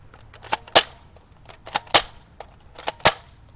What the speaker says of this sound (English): my crossbow's a little messed up, so I'm just gonna pull it back and it'll automatically shoot